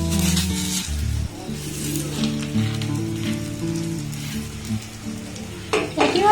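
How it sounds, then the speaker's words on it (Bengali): Stuffed roti fry in hot oil in a pan, two at a time, with a steady close sizzle and brief clatter as they are turned, under a low hum. "একটু ভাজা ভাজা হয়ে যাবে"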